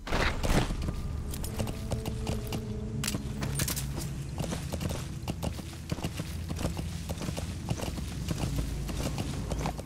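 Rapid clip-clop of horse hooves at a gallop in Metal Gear Solid V: The Phantom Pain, loud and continuous with crunching steps and faint background rumble, no talking.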